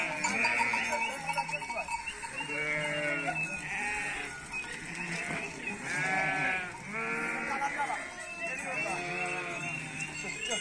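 A newborn lamb on a village farm bleats repeatedly in short, wavering cries, about one every second or two. The bleats are close and fairly loud over an outdoor background.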